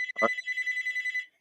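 A phone rings once during a live question-and-answer session: a bright electronic ringtone with a warbling repeated tone. It is clear and fairly close, and it stops abruptly after about a second.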